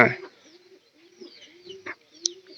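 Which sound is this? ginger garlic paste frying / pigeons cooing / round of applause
pigeons cooing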